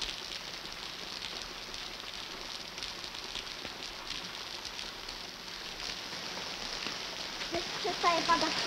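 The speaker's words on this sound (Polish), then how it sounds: "Przestaje padać." Steady rain falls in a continuous soft hiss, even and fairly faint throughout, swelling slightly toward the end.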